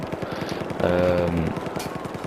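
Rapid automatic fire from the JS2 weapon in Battlefield 4, heard as a fast, steady string of shots through the whole stretch with a brief tonal sound partway through.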